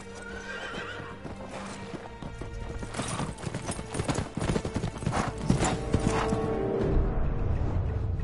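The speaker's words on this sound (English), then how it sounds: "We'll have a white horse named Kage" Hooves of a white horse in Ghost of Tsushima clip-clop steadily and up close, with a whinny and faint creaking of tack over a busy ambient game soundscape.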